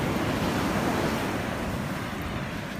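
Waves roll and break steadily along a straight stretch of ocean coast, a continuous wash of surf with some wind rumbling against the microphone, no voices present.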